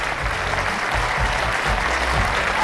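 A live concert audience in Saint Petersburg bursts into sustained, dense applause, a loud continuous wash of many hands clapping with faint crowd murmur underneath.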